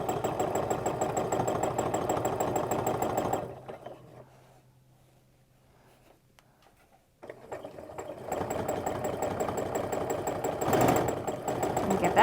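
A sewing machine free motion quilting wavy lines through a quilt block runs with a steady fast mechanical hum, stops for a few seconds of near silence, then starts again at full speed.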